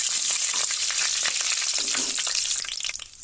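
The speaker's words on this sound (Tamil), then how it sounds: "முந்திரி நல்லா பொன்னிறமாக ஆகட்டும்." Cashew nuts fry in hot oil for a pulao, giving a steady, dense sizzle with crackling pops that thins out near the end, close and without speech.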